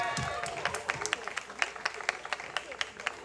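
Applause at a fundraising evening after a raffle winner is announced, moderate clapping with distinct individual claps, fairly quiet and thinning as it goes, with voices murmuring underneath.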